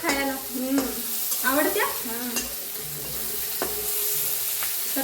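Onion frying in a pan with crushed garlic, a soft steady sizzle broken by scraping stirs and a few sharp utensil knocks, close and unaccompanied by talk.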